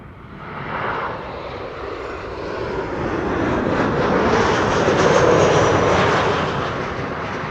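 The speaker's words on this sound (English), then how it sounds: "This is KLM flight 1294 arriving from Billund. 737-900." A KLM Boeing 737-900 jet comes in to land at Amsterdam Schiphol airport, a broad roaring engine wash swelling steadily louder and nearer before easing slightly, with no voices.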